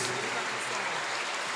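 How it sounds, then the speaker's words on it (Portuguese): A congregation claps together in a church during a Christmas Day Mass homily, a dense, steady patter of hands that fills the short moment evenly. "Isaías, uma salva de palmas"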